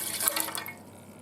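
Water poured into the pan of a Home Bakery Supreme bread machine, a brief close trickling splash that fades within about a second, with no talk.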